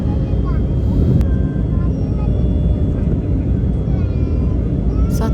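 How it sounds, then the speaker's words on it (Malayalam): Inside an airliner cabin on the Abu Dhabi to Kannur flight as it begins landing, a loud steady engine roar and rumble fills the space, with a faint click partway through. "ചെറുങ്ങനെ നമ്മളെ ഫ്ലൈറ്റ് ലാൻഡ് ആകാൻ തുടങ്ങിയിട്ടുണ്ട്"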